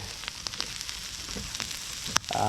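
Kakka clam roast frying in a hot pan, a loud continuous sizzle with small crackles and a sharp clink near the end, close up and without talk.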